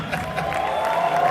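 An audience at a West African real estate event applauds and cheers in a brief, dense burst of clapping and whoops that stays steady and fairly close.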